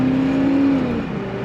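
A 1972 Chevrolet Caprice four-door hardtop with a four-barrel carburetor accelerates, its engine drone loud and steady, the tone holding briefly before easing lower as the revs change.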